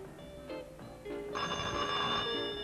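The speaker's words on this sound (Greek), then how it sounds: "Για κοίτα ποιος είναι το τηλέφωνο." An old telephone bell rings in a grocery shop, a loud, insistent trill that repeats and swells over a few seconds with no one talking.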